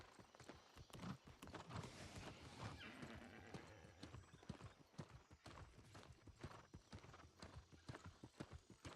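Rapid hoofbeats of a galloping horse in the video game New World, steady clip-clop rhythm running throughout, with a brief whinny near the start.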